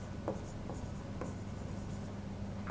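Faint pen or marker strokes during an accounting lesson on depreciation, a few soft scratches spaced out over a steady low hum, fairly quiet and close.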